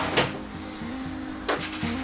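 A craft-room drawer holding note cards slides open and shut: two distinct wooden knocks a little over a second apart, close and fairly loud, with a faint low hum running underneath.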